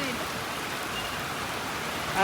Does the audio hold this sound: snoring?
no